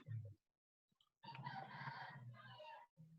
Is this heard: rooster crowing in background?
yes